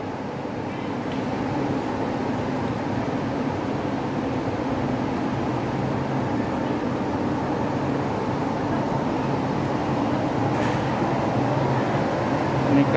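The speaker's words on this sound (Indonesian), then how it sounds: "Ini keretanya." An LRT train at Pegangsaan Dua station in Kelapa Gading runs with a steady, broad mechanical hum and hiss, continuous and fairly even, with faint higher clinks near the end.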